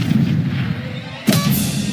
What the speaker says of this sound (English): Until you shoot a bearded woman out of a cannon.